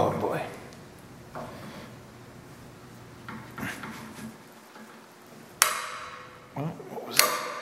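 A screw extractor snaps inside a heat-worn exhaust manifold, giving a sharp metallic crack followed by a brief ringing ping, with a second sharp hit moments later over low workshop background noise.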